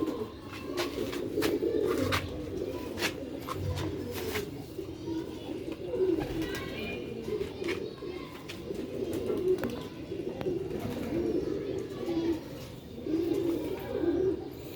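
Rooftop pigeons coo steadily in low, throaty repeated calls, with occasional faint chirps and soft background noise throughout.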